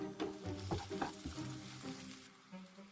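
Close sizzling of onions with paprika and coriander in a hot pan with several scraping stirs, rhythmic spoon strokes over the steady fry, fading slightly toward the end.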